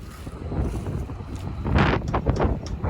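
Gusty wind buffets the microphone on a windy day during a South Saskatchewan soybean harvest, a steady low roar that swells into stronger gusts in the second half.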